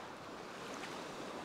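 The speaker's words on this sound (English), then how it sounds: "Now the water's drawing back with these waves." Ocean surf rolling and drawing back on a beach during beach fishing, a steady broad wash of water with some wind noise, continuous and fairly faint with no talk.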